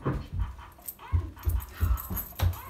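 A toy dog gives a string of small, repeated electronic-sounding barks and yips, evenly spaced and close by.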